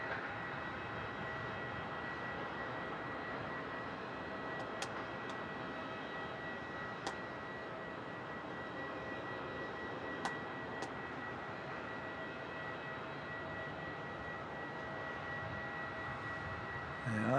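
An Emirates jet airliner departing the runway at Melbourne Airport, a steady, distant broadband engine roar that holds evenly throughout with a few faint ticks.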